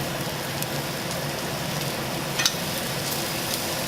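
Pork chop seasoned with rosemary and garlic searing in a hot pan, a close steady sizzle with a constant fizzing hiss and a few sharper pops, with no talking.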